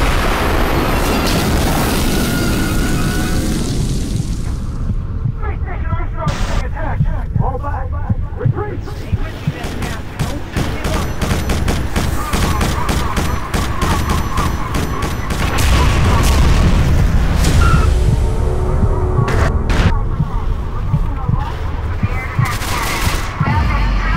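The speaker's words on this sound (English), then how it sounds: "a guided missile finds its mark, sending the squad ship hurtling towards a crash landing on Strogos" Quake 4 guided missile striking a squad ship, followed by its crash landing on Strogos: loud booming impact and rumbling explosions over dense crackling blasts, continuous and heavy throughout.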